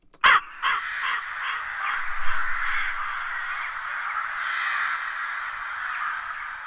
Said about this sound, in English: we actually added some crow samples, and I put a delay on one of the crows